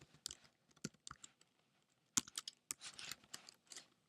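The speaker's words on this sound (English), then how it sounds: "So as I'm typing this in" Fingers type on a computer keyboard while setting a password during a CentOS install on a virtual machine, soft irregular key clicks in short bursts, quiet and close, with a quicker flurry near the end.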